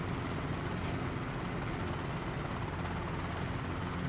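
Constant whirring rotor and turbine drone of a helicopter in Microsoft Flight Simulator during precision flight exercises, steady and loud with no breaks or voices.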